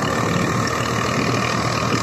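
A Swaraj 735 tractor, 2000 model, runs its diesel engine with a steady, dense rumble, close and continuous throughout with no pauses.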